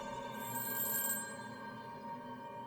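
A telephone rings briefly, a short burst of bright electronic ringing that fades into a steady, low background hum.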